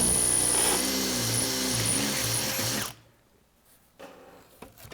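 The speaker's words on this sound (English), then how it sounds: "And I'm just going to drill a bit to get that to go in." A power drill fitted with a number 7 bit runs loud and close for about three seconds, its whine wavering as it bores a pin hole, then stops, leaving quiet handling clicks and knocks.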